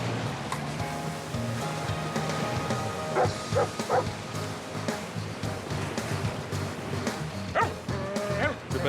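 Dogs bark repeatedly in short bursts at moderate distance during a search for a sunken boat, heard over a steady wash of ocean surf and other background noise.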